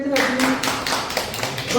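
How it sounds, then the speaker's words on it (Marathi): A group of schoolchildren in a fifth-grade classroom clap together in a short burst of quick, uneven claps, close and fairly loud, with some voices mixed in. "खूप छान बर टाळ्या वाजवूया"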